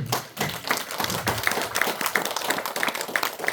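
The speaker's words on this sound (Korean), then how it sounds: "우리들은 스스로에게 박수 한번 쳐주십시오" Audience clapping in a lecture hall in Yeosu, a short, fairly close burst of many hands with a few distinct taps and soft thuds standing out.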